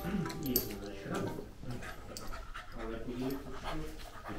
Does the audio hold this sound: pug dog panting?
yes